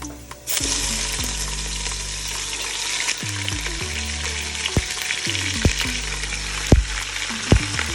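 Two and a half pounds of ground beef for keto tacos hits a hot pan and bursts into loud, steady sizzling that continues throughout, with occasional scraping clanks of a utensil stirring the meat.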